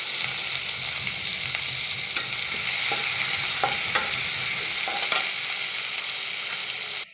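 Chopped garlic and ginger fry in white oil in a wok, giving a steady close sizzle with scattered light clicks of stirring throughout, then stopping abruptly at the end.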